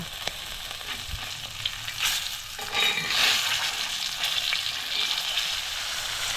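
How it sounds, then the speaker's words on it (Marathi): Stuffed bangda mackerel, Konkani style, fries in hot oil in a pan, giving a steady hissing sizzle with a few soft knocks and a louder flare of crackling midway, close and without talk. "बांगडा दुसऱ्या बाजून पण फ्राय करून घेऊया"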